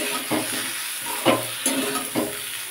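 Spices being stirred into a Rui fish curry in a pan make soft, rhythmic scraping strokes, about four distinct sweeps over a faint steady sizzle, close and fairly quiet.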